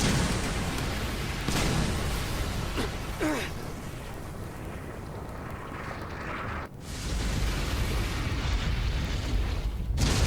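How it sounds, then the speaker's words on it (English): Anime battle scene in which missiles launch and blow up, a dense, loud, continuous roar of blasts and rumbling with a sudden cut to near silence before the barrage resumes. "Launch missiles!"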